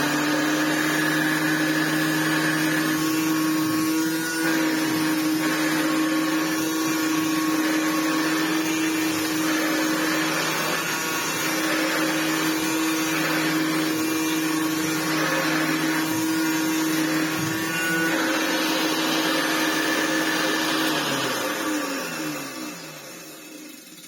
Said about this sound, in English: There's also a little tiny annoying noise coming from the motor.